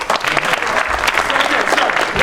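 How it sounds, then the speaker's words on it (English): Loud applause from an audience at a 25th anniversary event for a community group, continuous clapping with some voices mixed in. "Massive round of applause to that."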